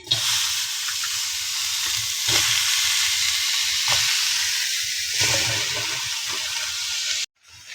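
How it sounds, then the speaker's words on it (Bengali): Taro greens dropped into a hot wok set up a loud, steady broadband sizzle that flares several times as more leaves go in, then cuts off abruptly near the end. "কড়া গরম হয়ে গেছে। এবার আমরা কচুটা প্রথমে দিচ্ছি।"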